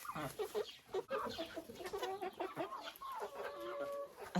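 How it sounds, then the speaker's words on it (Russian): Four-month-old young hens cluck and murmur softly in a farmyard, a steady overlapping chatter of short calls at low volume. "молодок, которым уже 4 месяца исполнилось, уже разговаривают. Я это слышу."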